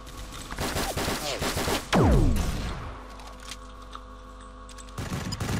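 Rapid bursts of paintball gunfire in the Roblox game Mad Paint Ball 2, a dense volley of loud shots up front with a sharp impact, then quieter scattered game sounds before more firing at the end.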